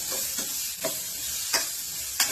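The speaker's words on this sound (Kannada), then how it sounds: "ಈರುಳ್ಳಿ, ಟೊಮೆಟೊ, ಕರಿಬೇವು ಹಾಕಿ ಫ್ರೈ ಮಾಡ್ತೀನಿ ಸಾಫ್ಟ್ ಆಗಿ." Onion, tomato and curry leaves frying in a pan, a constant sizzle broken by a few rhythmic scrapes of a spatula stirring the mixture.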